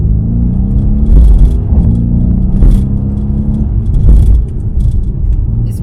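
Mercedes-AMG C63S from 2018 with its V8 engine revving, a loud, close, deep rumbling roar that rises and falls in several swells with a burbling exhaust note, with no talk over it.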